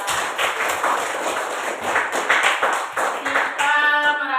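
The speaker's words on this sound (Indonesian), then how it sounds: "Tepuk tangan dulu untuk Siva." A classroom of students claps hands in a quick, lively burst of many overlapping claps close by, ending as a brief tonal sound cuts in.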